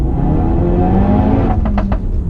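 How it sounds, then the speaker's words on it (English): Turbocharged engine of a Ford Focus RS with raised boost pulls hard under load, a loud continuous drone climbing in pitch, with a few sharp hissing bursts near the end as the turbo spools. "Once you load the engine up and the turbo starts spooling."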